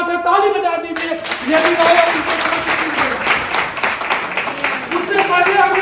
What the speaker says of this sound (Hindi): ये बड़ी बात है, ताली बजा दीजिए